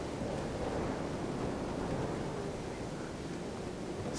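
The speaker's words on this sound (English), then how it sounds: "Can you hear that breeze?" Breeze blowing outdoors at a hillside property in Cap Estate, Gros Islet, St Lucia, a steady broadband rush of wind against the microphone with soft swells and no talking.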